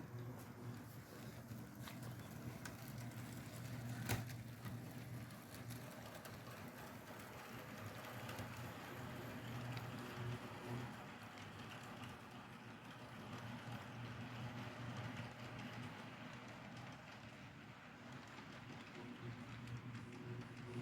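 Kato C44-9W HO scale model locomotives pull a long string of cars, some with plastic wheels, around a model railroad layout. They give a steady, continuous low rumble and whir that runs throughout at moderate level.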